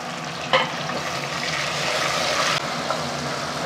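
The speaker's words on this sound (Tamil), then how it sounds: "தக்காளி வதங்கிட்டுருக்கு." Tomatoes sauté in a hot pan for biryani, giving a steady, close sizzle and crackle of frying that holds throughout, with a brief sharper spatter or stir near the start.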